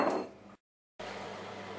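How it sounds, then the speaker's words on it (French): Hazelnuts are poured onto a metal baking tray, a brief, close rattling clatter that fades, then a short dead gap before a faint steady background hiss resumes. "on verse aussi les noisettes sur la plaque de cuisson"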